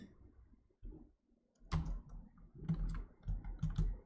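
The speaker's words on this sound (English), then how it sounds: "I'm going to type reset" Several short bursts of keyboard typing on a computer, close and fairly quiet, with brief pauses between clusters of keystrokes and no talking.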